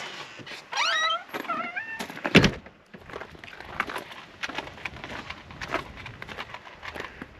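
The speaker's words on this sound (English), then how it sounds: "Oh, there's a new kitten." A small kitten mews several times, high and thin, in short rising cries near the start, followed by clattering and rustling noises at close range.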